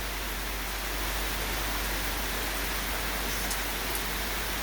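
Steady summer rain falls around a porch as a dense, even hiss that holds without a break, with no voices over it.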